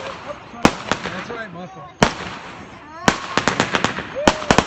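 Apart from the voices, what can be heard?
fireworks exploding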